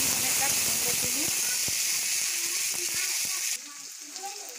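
Onions frying in a pan for a red saag and lentil dish, with a steady loud sizzle and hiss, occasional spoon scrapes, the sizzle dropping in level near the end.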